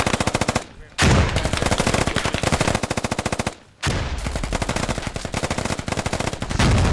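Sustained automatic gunfire in the multiplayer military shooter Squad rattles loud and close almost without pause, broken by two brief gaps, with a heavy blast near the end.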